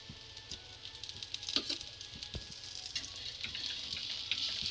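Malpua frying in ghee, with a steady bright crackling sizzle that builds in intensity. A few sharp pops and spatters break through near and clear.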